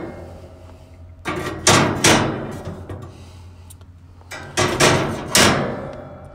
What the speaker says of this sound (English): I'll remove these grates out of the way.